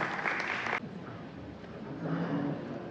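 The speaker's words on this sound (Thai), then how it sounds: "ปรบมือให้กับทางกีมทั้งสี่ท่านหน่อยฮะ" Audience applause for four guests on a Thai entertainment show, a dense burst of clapping that cuts off abruptly after under a second, then lighter scattered clapping and murmuring swelling again near the end.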